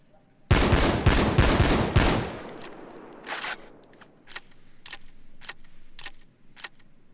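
A SPAS-12 (Predator 12G) shotgun fires repeatedly in Payday 2: a dense, loud burst of rapid blasts, then slower single shots with mechanical clacks, evenly spaced and fading toward the end.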